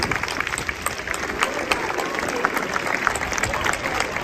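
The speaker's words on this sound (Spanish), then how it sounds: "Un aplauso." Crowd clapping and cheering at a public healthcare rally, a dense steady wash of many hands with scattered louder claps and voices mixed in throughout.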